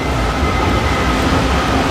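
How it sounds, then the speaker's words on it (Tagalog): An LRT train runs between Cubao and Recto in Manila, making a loud, steady rumbling roar heard from on board or close by. "susubukan natin sumampa na muna ngayon sa tren"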